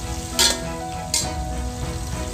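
Onions browning in a pan with salt as a curry base, giving a steady close frying sizzle with two brief louder scraping stirs breaking through, no voices.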